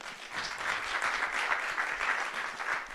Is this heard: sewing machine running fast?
no